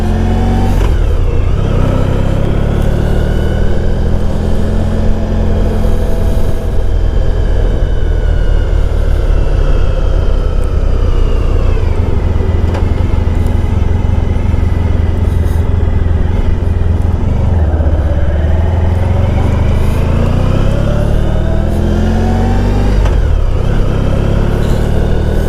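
A 1994 Honda ST1100 motorcycle rides steadily on the road, its engine droning loud and close with rising and falling revs through gear changes, under heavy wind rush.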